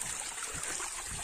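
Gentle, faint rushing and trickling of a small stream flowing from an old historic waterfall in rural Limchungbung, Udayapur, continuous and soft with no voices.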